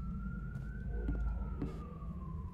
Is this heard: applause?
no